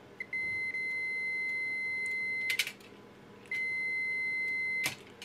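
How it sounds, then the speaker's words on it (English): A multimeter gives continuity beeps while testing a switch, two long steady tones, each over two seconds, ending in brief clicks from probe contact, close and clear. "There should be enough beeps, I reckon."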